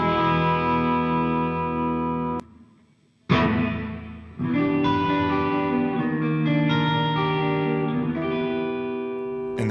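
Sustained electric guitar chords drenched in lush convolution reverb from a MOD Dwarf pedal, with long shimmering tails, a brief near-silent gap, then a sharp new strum and ringing notes blooming into space.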